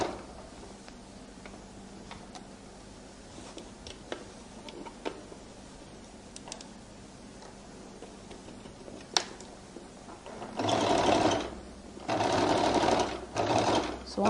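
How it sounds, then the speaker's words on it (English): Sewing machine stitching a flared skirt runs in two loud, close bursts near the end, following quiet ticking and handling sounds. "I roll it open and I now begin to stitch."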